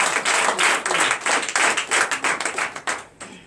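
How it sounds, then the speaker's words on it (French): A church congregation at a Sunday service clapping in a lively, uneven burst of hand claps that thins out and fades near the end. "Donnez l'acclamation."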